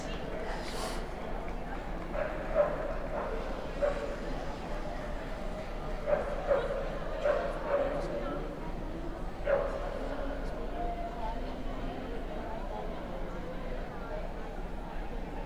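A Tibetan Terrier at an indoor dog show gives faint, scattered short yips and barks among the hall's background murmur. An announcer speaks over them.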